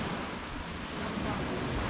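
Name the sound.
heavy rain on a Maldives island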